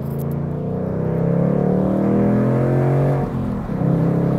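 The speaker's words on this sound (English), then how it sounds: "Couldn't have done a better job with the exhaust note in this car." A 2019 Ford Mustang Bullitt's exhaust rumbles loudly and steadily at idle, a deep throaty drone with a brief dip and blip of the throttle near the end, no talking.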